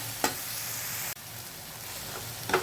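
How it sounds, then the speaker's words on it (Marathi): Onion, green chili and garlic frying in oil, a steady soft sizzle with a few sharp spatula scrapes against the pan. "ते देखील याच्यात भाजून घेऊया चांगले हे तीन ते चार मिनटं भाजून घ्यायचे चांगले"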